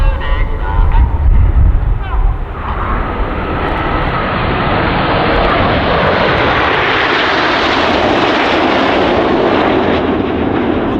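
Red Arrows jets roar through a display manoeuvre at the Royal International Air Tattoo, a loud, sustained broadband engine rush that swells and holds steady across the whole stretch.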